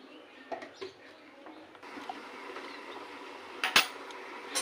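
A metal lid is set onto a pot of ridge gourd and shrimp curry, making one sharp clanking hit near the end after faint kitchen rustling and small taps.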